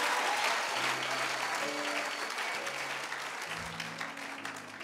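A church congregation gives dense, sustained applause that slowly fades, with a few voices and sung tones rising above the clapping.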